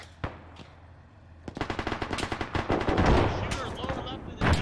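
Automatic gunfire rattles in a military video game, a sparse shot or two giving way to sustained rapid bursts that grow dense and loud, with radio-style voices talking around the shooting.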